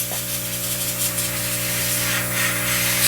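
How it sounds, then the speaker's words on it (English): An airbrush sprays paint onto a paper towel while a Messerschmitt 109K scale model is being built, a continuous close hiss over a steady mechanical hum from the compressor. "Always spray off of it first."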